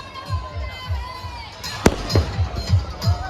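Firecrackers pop in a series of sharp cracks, one louder bang standing out, amid a noisy outdoor crowd with people talking at a Parshuram Jayanti celebration in Jalgaon.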